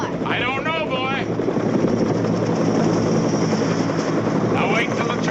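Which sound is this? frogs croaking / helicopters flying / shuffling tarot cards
helicopters flying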